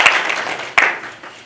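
A brief burst of audience applause for coffee producers at a fair trade gathering, with a couple of sharp claps standing out over a short wash of clapping.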